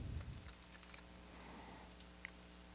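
A quiet, quick run of keystrokes on a computer keyboard while a folder name is typed, followed by a few scattered, isolated taps.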